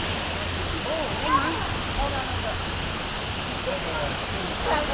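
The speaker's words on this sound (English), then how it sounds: "What a way to come in and out of a waterfall." Steady, broad roar of falling water nearby at a waterfall on the Ord River, Australia, heard while tubing, with faint voices underneath.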